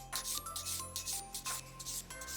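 A nail file rasps over an acrylic nail, bevelling the square coffin shape down toward the tip, in short quick back-and-forth strokes heard close and alone.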